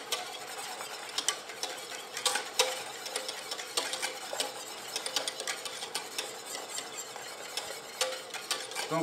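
White roux is stirred into reduced chicken galantine broth in a pan, giving a soft, continuous scraping and light clinking of utensil against metal. It sounds close and fairly quiet, with no talking.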